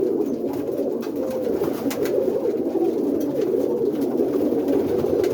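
Boston roller pigeons in a loft coo continuously, a low, soft, overlapping murmur from many birds close by, with occasional faint clicks and rustles.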